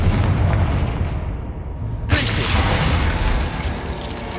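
Confringo spell blast in the video game Hogwarts Legacy, a booming fiery burst over a dense rumbling game soundscape, with a sharp crackling impact striking midway and a noisy roar trailing after.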